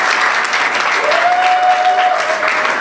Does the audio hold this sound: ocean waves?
no